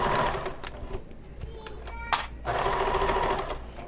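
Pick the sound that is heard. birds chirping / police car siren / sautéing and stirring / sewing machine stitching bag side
sewing machine stitching bag side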